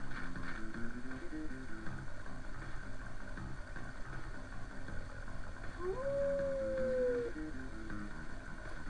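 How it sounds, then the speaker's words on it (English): A single rising then long sustained animal howl from the Mother 3 video game, clear and tonal over a low rumbling game soundtrack, lasting about a second and a half. "That was like a howl."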